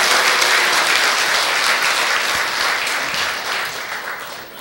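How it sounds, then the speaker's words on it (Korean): Loud, steady applause from a large crowd at a Buddhist military chaplains' day ceremony, congratulating an award recipient; dense clapping fills the whole stretch and fades slightly toward the end. "큰 박수로 축하해 주시기 바랍니다"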